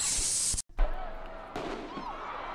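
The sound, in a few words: fireworks exploding at protesters' feet near police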